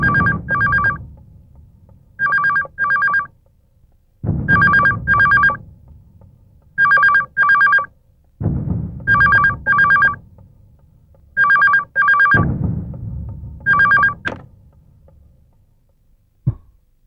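A telephone rings loudly in a film scene, its electronic trill coming in repeated double bursts at a steady rhythm over a low background rumble.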